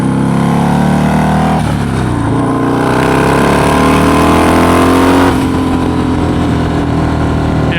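A bagger motorcycle engine roars close and steady while riding fast in third gear, with rising pitch sweeps as it pulls and a brief dip near the middle, continuous throughout.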